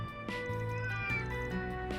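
A dog character in Trails through Daybreak lets out a short cat-like meow, a clear tonal call over steady game music and ambience, with a couple of brief rising cries across two seconds.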